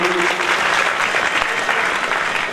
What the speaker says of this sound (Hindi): जोरदार तालियां अध्यक्ष जी के लिए।